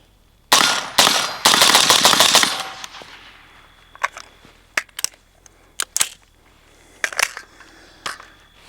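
A suppressed MK18 rifle firing lightly charged ammunition: a rapid burst of muffled, clattering shots, then a string of sharp, spaced single reports and mechanical clicks nearby, with no talk.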